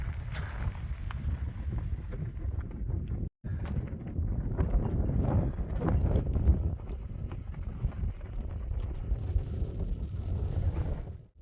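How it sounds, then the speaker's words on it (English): Steady, cold wind buffeting a microphone outdoors near Willard, New Mexico, with a low rumble throughout, briefly cutting out once, no voices. "it's quite windy and quite cold"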